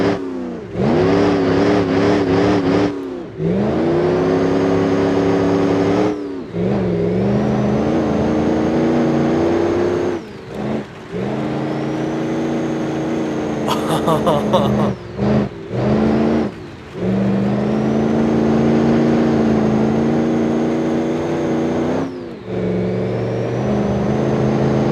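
Engine of a heavily modified limousine in the BeamNG.drive driving game, loud and mean, revving hard through long rising pulls with brief drops at each gear change, continuous and close with no talk.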